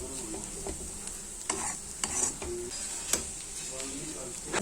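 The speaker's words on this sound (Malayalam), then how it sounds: "നമുക്കിതിലേക്ക് കറിവേപ്പില ഇട്ട് കൊടുത്ത് നന്നായിട്ട് ഇളക്കിയെടുക്കാം." Clam meat frying in a pan with curry leaves added, stirred with sharp scraping clicks over a steady sizzle at moderate loudness.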